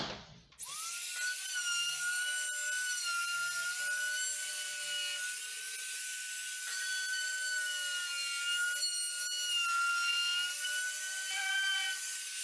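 Wood router cutting a rebate into a door during installation of a folding door, a continuous high whining motor with steady cutting hiss, close and loud, running without break for the whole stretch.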